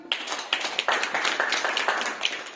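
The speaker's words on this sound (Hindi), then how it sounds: "एक बार जोरदार तालियां" Audience applause at a motivational talk, brisk clapping with sharp irregular taps, fairly close and steady, no talk over it.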